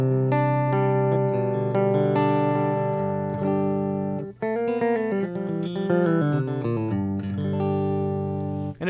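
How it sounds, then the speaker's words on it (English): An electric guitar plays sustained chords and melodic phrases through a 5-watt Fender Champ tube amp in the low-gain input, volume about 4, clean with a touch of grit, ringing out alone without any talking. "Lots of really great tones coming out of this little amp."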